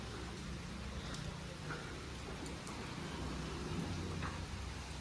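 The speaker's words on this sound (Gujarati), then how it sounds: "વરસાદ આવે છે." Rain falling steadily at a hill station, an even, constant hiss of drops at moderate distance with no voices.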